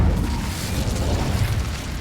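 A Hogwarts video game spell blast, Repulso or Incendio, comes through as a dense, sustained low rumbling whoosh lasting about two seconds at steady loudness, with no voices.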